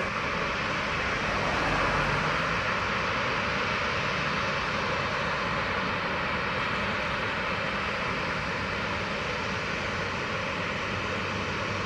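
A US Air Force C-17 jet departing Montego Bay, Jamaica, its engines a broad, steady roar that swells slightly early on and holds loud and continuous for the whole stretch, with no voices over it.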